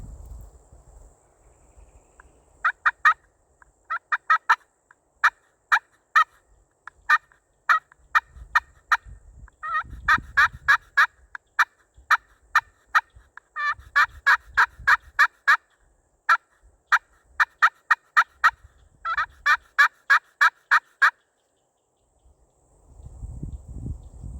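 Repeated bursts of sharp, rapid scratchy turkey calls from a striker call, with a wild turkey gobbling faintly in the distance between bursts, in a Florida swamp during turkey hunting.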